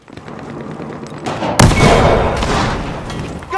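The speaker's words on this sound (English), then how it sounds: "Tossing a grenade!" A grenade goes off during a Battlefield Hardline firefight: a sudden loud, close blast with a deep thump about halfway through, over a constant crackling din of gunfire that rings on afterward.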